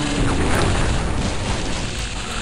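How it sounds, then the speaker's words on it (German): Explosion in the first-person fantasy game HeXen II, set in a dark pharaoh's tomb chamber, rendered as a loud, dense, sustained roaring burst that fills the whole clip, with no voices over it. "Der eine ist explodiert."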